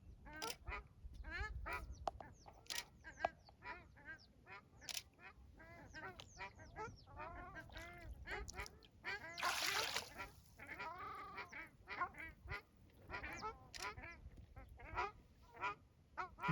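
Ducks at Maguri Beel wetland quack in a busy, overlapping chorus of repeated calls, some near and loud, others softer, with a brief splashy burst midway and faint voices in the background.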